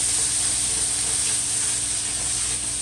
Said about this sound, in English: my pot starts sizzle now